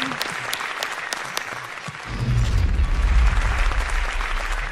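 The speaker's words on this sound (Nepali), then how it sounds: "वान मोर टाइम उठेर तपाईँहरूलाई ताली है." Studio audience at a Nepali televised dance competition breaking into applause, a steady wash of clapping that swells into a fuller, louder roar with low rumble about halfway through and keeps going.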